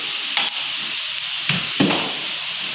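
Onions soften in a pan as kibbeh spices and yellow turmeric are stirred in, giving a steady close sizzle and hiss with a few scraping stirs of the spoon and no talk.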